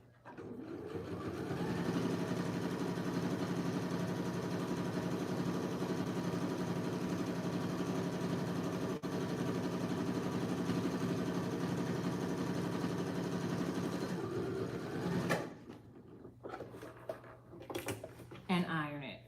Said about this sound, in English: The reason I serge the edges is because I want to open the seam flat